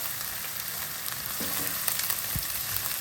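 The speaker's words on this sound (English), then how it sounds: "let the garlic and ginger cook a little bit" Garlic and ginger frying in a pot as the base of a chicken stew make a steady, soft sizzle with a few faint stirring knocks, heard close and without speech.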